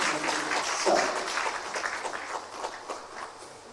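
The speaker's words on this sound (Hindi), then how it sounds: "जोरदार तालियों के साथ हम माननीय मुख्यमंत्री जी का स्वागत करते हैं" Applause rises to welcome the chief minister at a 2022-23 budget seminar, a steady crowd clapping with a brief swell near the start that then holds level to the end, with no talk over it.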